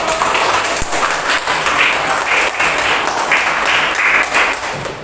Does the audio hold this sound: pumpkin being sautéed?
no